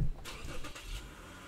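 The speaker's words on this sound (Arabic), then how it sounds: "الآن حنشغل السيارة" A car engine cranks and catches near the brake master cylinder during a brake fluid change, giving a short burst of starter noise that settles into a steady idle.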